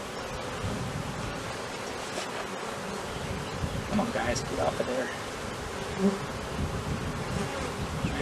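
Honey bees hum in a dense, steady drone during a spring hive inspection, loud and close throughout, while a person speaks briefly over the buzzing.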